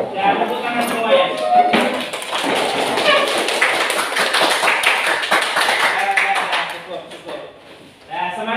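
A classroom of students claps together in a dense burst of quick, sharp hand claps that swells and then fades, with voices mixed in underneath.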